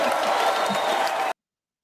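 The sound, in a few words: crowd applauding at live show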